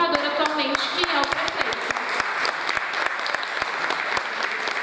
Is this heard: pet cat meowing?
no